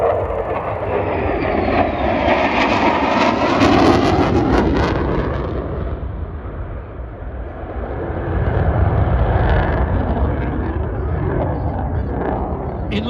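A Lockheed F-35B fighter jet at the Old Buckenham airshow produces a loud, sustained, rumbling jet roar. The roar swells and fades as the aircraft passes for over ten seconds.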